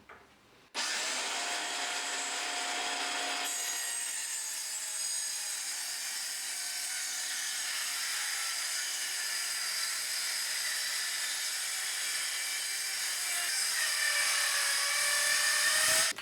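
A power saw rips steadily along a length of timber guided by a rip fence, building a gate from wood; the whine runs loud and continuous for most of the clip after a quick start.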